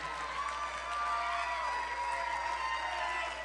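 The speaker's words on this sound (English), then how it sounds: "can we give my wife an amazing round of applause" A crowd at an Ohio Senate race victory speech applauds and cheers in a steady, fairly quiet wash of clapping and voices that holds for a few seconds.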